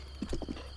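Horse hooves clip-clopping in The Legend of Zelda: Breath of the Wild, four quick muffled hoof beats in a short run over a steady low game background, with no talk.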